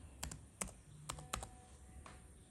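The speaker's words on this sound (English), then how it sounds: "Sorry, because I did type with my laptop." Laptop keys tapped in a short uneven run of crisp clicks, close by and moderately quiet, with no one talking.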